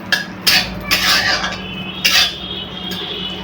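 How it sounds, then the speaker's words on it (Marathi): Raisins fry in ghee in a kadhai over a low flame while besan ladoos are being made, with a soft sizzle beneath repeated clinks and scrapes of a metal spoon stirring against the pan. There is no talking. "जे कढईमध्ये तूप आहे त्याच्यावरती मनुके आपण थोडेसे फ्राय करून घेतले की जास्त छान लागतात"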